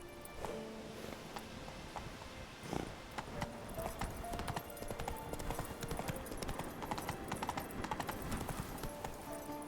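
Roach, Geralt's horse in The Witcher 3, galloping with quick, even clip-clop hoofbeats from start to finish, moderately loud amid game ambience and music.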